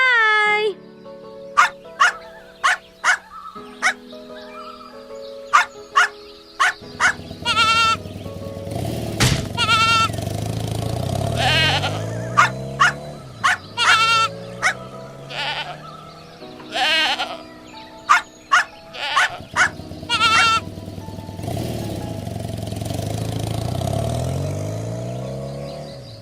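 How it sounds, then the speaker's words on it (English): A baby goat bleats repeatedly in short wavering cries, loud and close, mixed with dog barks and a passing scooter, while an animated scene plays under music-like tones. "Oh no! The baby goat is hurt."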